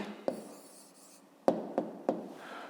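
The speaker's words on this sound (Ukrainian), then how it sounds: "Пишемо відповідь." Pen or pencil writing an answer by hand on paper for a fifth-grade math exercise: a faint scratchy stroke followed by a few sharp, separate taps and short scrapes, close and quiet.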